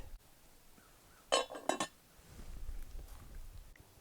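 A spoon stirs chicken stew with broth and herbs in a pot over a campfire, giving a quick cluster of faint metallic clinks against the pot amid quiet low outdoor rumble.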